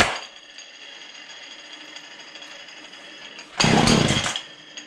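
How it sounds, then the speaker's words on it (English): A Husqvarna 235 chainsaw on full choke: a steady low mechanical drone, then near the end a loud, close, roughly one-second burst as the engine briefly catches and sputters. No one speaks. "Try again, full choke after primed a few more times."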